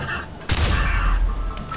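A single loud gunshot crack from the video game Far Cry 3 bursts out close and sharp, then decays into a rumbling tail with faint background game sounds.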